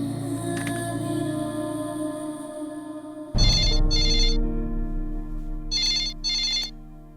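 A telephone rings in two short double bursts of bright electronic trills, loud and close, following a low sustained musical drone that cuts off abruptly.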